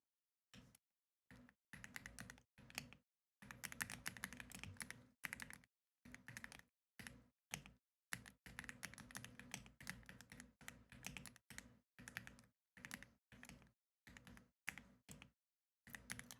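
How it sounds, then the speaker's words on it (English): Rapid typing on a computer keyboard, bursts of close clicking keystrokes separated by short silent pauses, quiet and alone without talk. "I gotta type it again"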